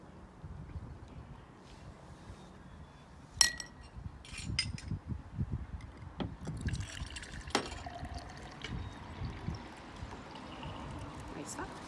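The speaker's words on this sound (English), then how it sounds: "I want you to pour the water just about the same amount as we had here" Water poured into a glass jar in a classroom egg-floating experiment, a soft trickle with faint clinks of glass, fairly quiet over a low background rumble.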